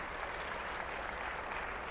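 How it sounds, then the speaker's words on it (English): Dense, steady applause from a crowd at a Magic: The Gathering panel on Commander, continuous and even throughout, heard from a distance at low level. "clap for Sheldon, absolutely."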